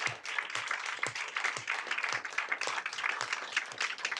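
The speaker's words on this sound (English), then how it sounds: "yeah, you can clap for that." An audience at a board of education business meeting claps steadily, a close, sustained patter of many hands with no voices over it.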